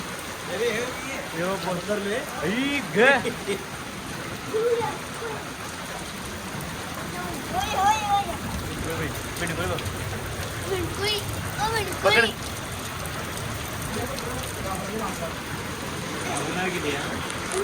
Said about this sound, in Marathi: गाऱ्या पडल्यात गाऱ्या हे बघा.